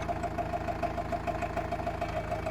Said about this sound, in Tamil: இன்ஜின் சவுண்டு பார்த்துருங்க எப்படி இருக்குன்னு. நல்லா அமைதியாக ஓடுது.